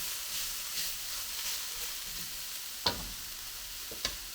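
Chopped vegetables fry steadily in a pan for noodles in bahmi goreng style, a continuous broad sizzle with a couple of sharp ticks or clinks from stirring, close and alone without talk.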